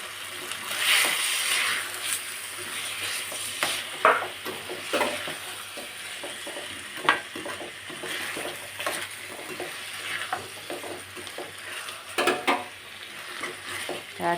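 Chicken curry is stirred in a pan, with a steady background sizzle broken by irregular scraping and clinking strokes of the spoon against the pan.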